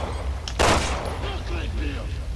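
A single loud gunshot cracks out in the video game Resident Evil 6, followed by quieter combat noise and a low background rumble, with faint voices underneath.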